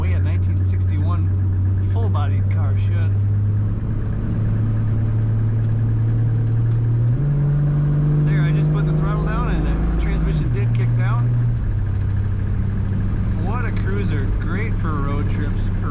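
A 1961 Plymouth Fury two-door hardtop runs with a steady low engine hum, shifting pitch as it drives, while someone talks over it continuously.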